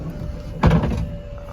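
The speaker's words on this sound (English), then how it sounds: "Door's going to open, ramp's going to come out" A 2019 Dodge Grand Caravan VMI wheelchair van's side door gives one solid thunk and then a brief mechanical rumble as it opens and the ramp starts to deploy, heard close up with no talking.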